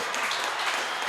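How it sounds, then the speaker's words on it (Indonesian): A short, faint wash of clapping from a studio audience on an Indonesian football talk show, an even hiss of many hands lasting only a moment. "Boleh tepuk tangan dulu."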